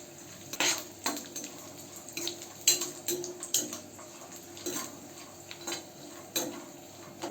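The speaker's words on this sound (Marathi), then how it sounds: "तेलामध्ये खोबरं टाकूया आणि खोबरं छान भाजून घेऊ आपण तेलात." Grated coconut roasts in oil in a pan, with a soft sizzle beneath repeated scraping and stirring clinks of a spatula against the pan, close and fairly quiet, no talking.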